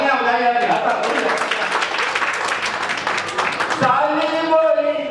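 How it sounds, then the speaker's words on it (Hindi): A crowd at a Holi gathering and poetry recital claps in a dense burst of applause lasting several seconds, loud and close, with a voice speaking before and after it. "ऐसे तालियां बजाई जाती है।"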